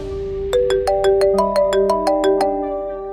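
A phone ringtone for an incoming call plays a bright rising melody of about ten clear tonal notes in steady rhythm, loud and close with no talk over it, during Ganesh idol making for Ganesh Puja.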